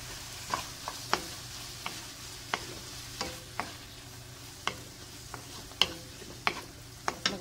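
Sliced carrots for pancit are stir-fried in a pan, sizzling softly under sharp, irregular clicks and scrapes of a spatula turning them over. The sound is quiet and close, with no voices.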